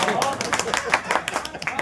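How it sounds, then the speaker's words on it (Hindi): An audience claps at an Urdu poetry mushaira, a brief burst of fairly close, uneven hand claps with a murmur of voices mixed in. "आप चाहे तो तालियां बजा सकते।"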